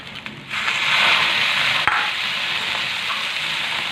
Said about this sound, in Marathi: ही छान या तेलामध्ये मिक्स करून घेऊ भिजून घेतलेली डाळ टाकू